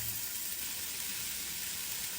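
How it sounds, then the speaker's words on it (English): Meatballs searing in a pan for a rich beef broth: a steady, soft, even sizzle with no breaks. "Now we sear the meatballs here."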